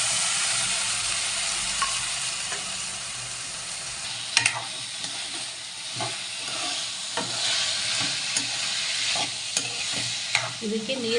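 Chopped chayote fries in a pan with its tempering, giving a continuous close sizzle broken by frequent scraping and clinking as the pieces are stirred.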